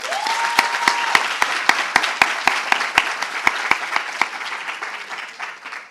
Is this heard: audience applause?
yes